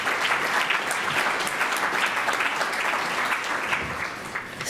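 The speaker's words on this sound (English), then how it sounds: "Can we get one more round of applause for the whole panel?" Audience applause for a discussion panel at a neighborhoods symposium, steady dense clapping throughout that eases slightly toward the end.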